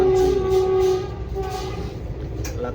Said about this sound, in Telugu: ట్రైన్ జర్నీ ఉన్నది